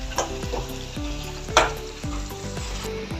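Tomato paste frying in hot oil for chicken tikka masala, a steady close sizzle broken by several spoon scrapes and stirring knocks, with no talk.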